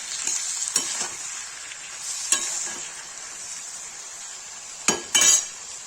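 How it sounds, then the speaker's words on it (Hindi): Aloo parwal sabji with garam masala and fennel stirred in a pan, a steady soft sizzle with a few sharp spoon scrapes and clinks, the loudest pair near the end. "गाइस देखिए मैंने इससे गरम मसाला सौंफ मिला दिया है, इसको चला देंगे"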